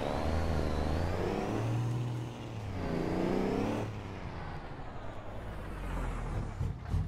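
A car engine in a driving video game revs loudly, pitching up and down through gear changes, then settles into a lower, steadier drone.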